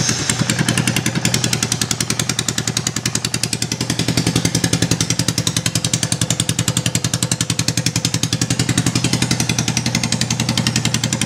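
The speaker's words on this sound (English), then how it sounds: "it's my foiler with no exhaust." A 1999 Honda Foreman 400 ATV engine runs with its exhaust removed, giving a loud, raw, rapid-firing rattle that stays steady and close for the whole stretch, with no talking.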